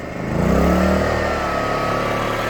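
A new Genergy Limited 2000i inverter petrol generator runs at full power, its loud steady engine hum rising sharply in the first half second and then holding a constant, dense drone with no talking.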